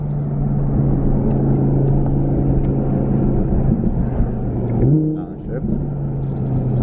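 An Audi R8 V10 Plus on a road trip, its engine holding a loud, steady droning rumble before the note drops off the throttle with a few sharp exhaust pops near the end.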